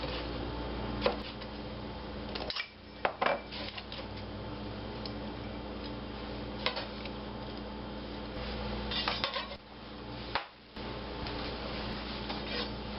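A knife slices small tomatoes into rounds on a cutting board, giving a few scattered light taps and scrapes over a steady background hum.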